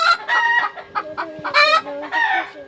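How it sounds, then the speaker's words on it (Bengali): A hen clucking while settling to lay an egg, with repeated loud, close calls in uneven bursts and no talking. "আর এই দেখো এদিকে আমার মুরগি বসেছে ডিম পাড়তে"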